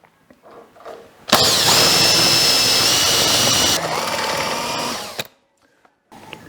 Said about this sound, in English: I still have to drill it in order to get it out